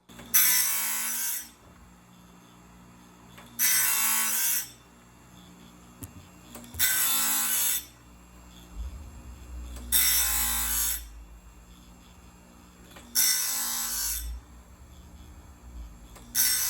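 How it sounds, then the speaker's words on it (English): A blade-sharpening machine working on 7-degree blades, grinding in six evenly spaced bursts about a second long each, separated by quieter pauses with a low motor hum underneath. "I can sharpen 7-degree blades with this same machine"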